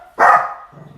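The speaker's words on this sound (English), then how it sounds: "Excuse the dog. That's what happens." Indoor dog letting out a single sharp bark, loud and close, followed by a brief low trailing sound.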